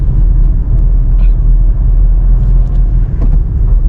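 A car shifting into third gear while driving, heard from inside as a loud, steady low engine and road rumble with faint clicks, no talking.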